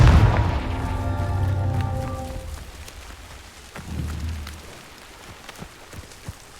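A Confringo fire spell blast in Hogwarts Legacy erupts as a loud, deep boom with a tonal ring, decays over a couple of seconds, then a second lower rumble follows amid scattered crackling debris.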